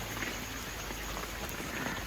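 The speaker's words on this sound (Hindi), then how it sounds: "बारिश हो रही है, ये देख लें" Steady rain falls outdoors in rainy-season weather, a continuous soft hiss of drops on surfaces at moderate, even level with no talking.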